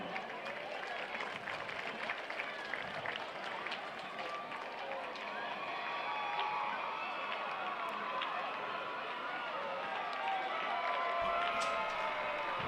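A university football crowd at a West Liberty versus Concord game applauds and cheers, a dense, steady roar of clapping and voices filling the stadium for the whole stretch.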